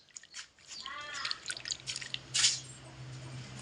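Water dripping and splashing as jamun fruit are washed in a container, a few soft drips and trickles then a brighter splash near the end, close by and fairly quiet.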